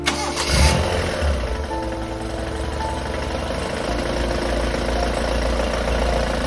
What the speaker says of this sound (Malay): Lepas cabut belting, aku try start enjin dan